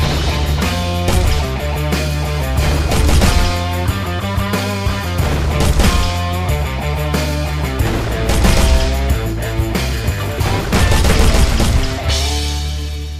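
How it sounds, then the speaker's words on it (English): Rhythmic game explosions created in Unreal Engine 5 are timed to the beat of a loud, driving rock music track, with booms landing on the rhythm throughout the full mix. "create explosions, spawn emitters at different locations using the Quartz clock, so we can quantize those explosions to this awesome swag rock track"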